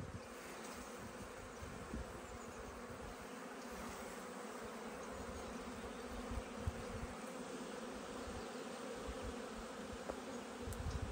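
A dense swarm of honeybees buzzes around hives at an apiary, with bees trying to get into a hive, giving a continuous, steady droning hum that stays even and close throughout with no talk.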